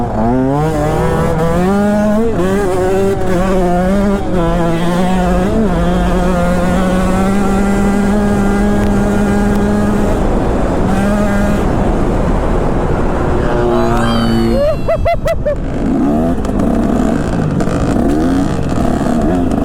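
KTM two-stroke enduro motorcycle engine during wheelie practice, loud and close, revving and rising in pitch, then dropping and blipping again, with no talking over it.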